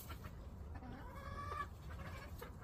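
Chickens cluck in a backyard coop where a white hen sits among the flock, with a few short, rising calls standing out over a low, steady background of farmyard noise and no voices.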